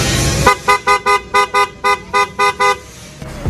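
A PIA Auto Style Horn installed on a car blasts in a rapid series of about ten short, evenly spaced bright honks, loud and close, after a brief noisy lead-in and ending in quiet.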